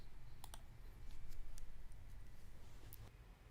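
A computer mouse gives a few faint, sparse clicks while a WordPress website template is imported, over a quiet low room hum.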